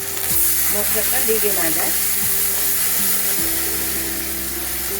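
Spice masala of chilli powder, cumin and coriander sizzles loudly and steadily in oil after a splash of water, with a brief voice speaking over the frying in a home kitchen while a fish-roe kofta curry is prepared.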